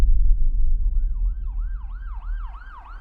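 An ambulance siren wails in rising and falling sweeps that grow louder and faster, over a low rumbling engine and road noise.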